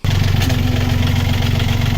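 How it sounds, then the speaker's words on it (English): A sailboat's engine runs with a loud, steady low throb and rapid mechanical pulsing, close by with no voices, during a passage across the Irish Sea after the wind died. "The wind died, so we went to turn the engine on and we got an unpleasant surprise."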